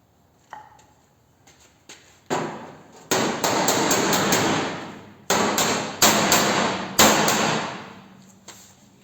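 A hammer strikes the inner structure and guard panel of a Studebaker's steel body, giving a few sharp metallic blows followed by quick bursts of ringing, rapid hits.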